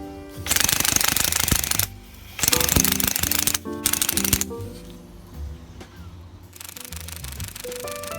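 A Classic Army M132 Microgun airsoft rotary gun, gas-powered and loaded with BBs, fires in loud rapid buzzing bursts of a couple of seconds each, separated by short pauses with mechanical whirring between them.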